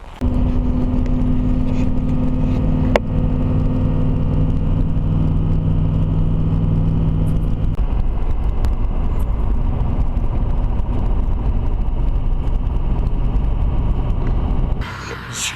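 A car cruising along a road in Alaska gives a steady, loud engine and tyre rumble that runs for the whole stretch, with a brief change in tone partway through and no talk.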